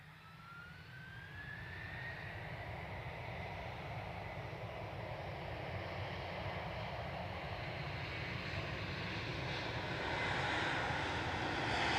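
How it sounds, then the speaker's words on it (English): An Aer Lingus Airbus A330 airliner takes off bound for Orlando, its jet engine roar swelling steadily from a distant whine to a broad, loud rumble over twelve seconds without any talk. "here's the beautiful Aer Lingus A330. This is off to Orlando as well. Should make a fair bit of racket."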